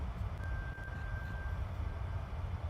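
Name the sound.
beeping sound in the background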